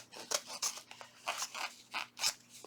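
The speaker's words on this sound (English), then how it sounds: "now we're just going to once again cut the hearts out" Repeated crisp snips of scissors cutting out fabric hearts, a steady series of about seven cuts at an even rhythm, close and clear with no talking.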